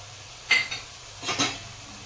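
Garlic, green chili and ginger paste being stirred in a pan, two short scraping strokes of a spoon against the metal over a faint low sizzle, close and brief.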